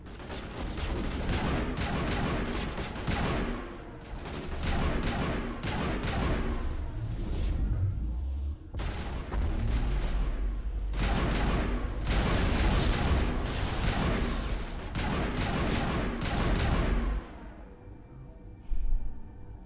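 Sustained bursts of video game gunfire in Mass Effect 1, loud and dense, coming in repeated volleys with brief lulls between them and a few sharp single shots near the end.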